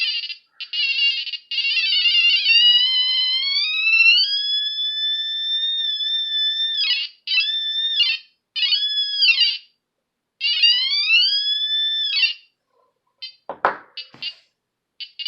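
A homemade clone pulse induction metal detector beeps over a chunk of solid silver, giving loud warbling electronic tones that rise, hold and break into repeated pulses, with a brief knock near the end.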